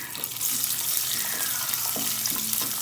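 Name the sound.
raisins frying in a pan for apple pumpkin halwa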